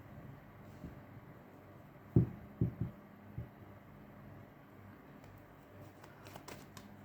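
Tarot cards being shuffled by hand, a few soft riffling flutters and slaps clustered in the middle, close and quiet against a faint room hum.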